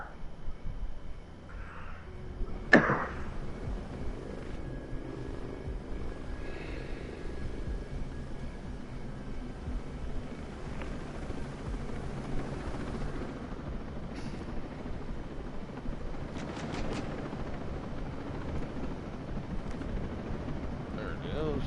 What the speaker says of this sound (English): I have helicopter.